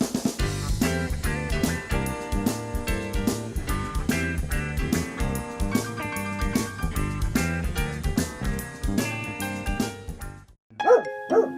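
Several dogs bark and yip almost nonstop in a dense, loud cluster, then go briefly quiet before a few final sharp barks close by.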